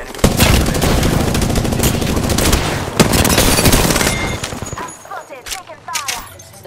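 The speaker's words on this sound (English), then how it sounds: "The enemies are shooting at me." Enemy gunfire rattles in rapid bursts in a battle royale shooter with Pathfinder, loud and sustained before it thins into scattered shots and softer game sounds near the end.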